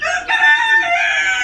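Native chickens on a farm in Savar, Dhaka, giving a loud, close, drawn-out crowing call with clucking tones, heard alone without talk.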